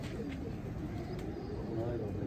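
Pigeons coo softly in a continuous low murmur among kept birds, faint and steady, with background noise throughout.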